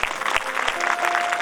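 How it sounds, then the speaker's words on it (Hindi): An audience at a folk comedy show applauds the kotwal with steady, dense clapping that continues throughout, moderately loud and close, with no talking. "कोतवाल साहेब बजोरदार ताली बजना चाहिए।"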